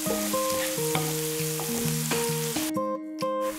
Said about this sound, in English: we're going to go ahead and add our onions in. Go ahead and cook it for about 8 minutes